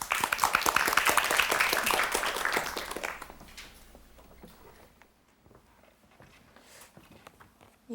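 Television studio audience applause on a KBS storytelling programme welcoming a contestant: loud, dense clapping for about three seconds, then fading into scattered, quieter claps.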